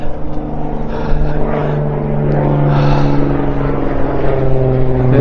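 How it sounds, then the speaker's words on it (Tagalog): A noisy helicopter passes overhead outdoors on a cold day, a steady loud rotor and engine drone with strong low harmonic hum that swells slightly midway and persists throughout without talk. "Helicopter, maingay."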